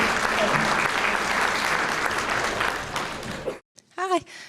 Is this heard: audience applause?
yes